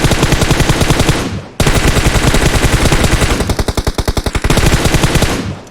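Sustained automatic gunfire from the PUBG Mobile game, loud and close, rattling in long continuous bursts with a brief break and a slower pulsing stretch partway through, and no talk.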